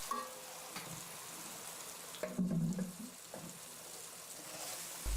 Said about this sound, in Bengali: কিছুক্ষণ আড়াতাড়া করে ভেজে নেব সেই সাথে দিয়ে দিচ্ছি আগে থেকেই মেথে রাখা জলপাইগুলো